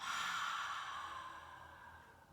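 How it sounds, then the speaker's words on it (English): A long, steady exhale pushed out through the mouth during a calming parent-and-child yoga breathing exercise, a soft airy breath that fades gradually over a couple of seconds, with no talking. "let out a nice big breath through the mouth"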